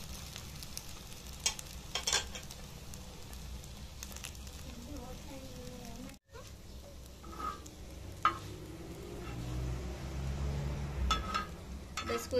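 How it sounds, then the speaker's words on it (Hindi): A breakfast sandwich frying in a pan and nudged around with a spoon, a soft steady sizzle with occasional scrapes and taps, with faint talking in the background. "इसको इसी तरह से चम्मच के साथ हिलाते रहना है ताकि ये अच्छी तरह से इसके किनारे भी पक जाएं"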